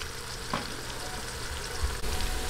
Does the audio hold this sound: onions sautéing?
yes